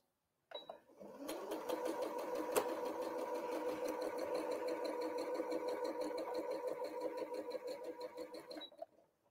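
Quilt block pieces chain-pieced on a sewing machine, its needle running in a steady, rapid, continuous whir for about nine seconds with a brief click near the start, close and clear with no talk.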